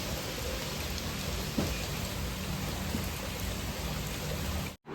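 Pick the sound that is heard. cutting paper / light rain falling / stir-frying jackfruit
light rain falling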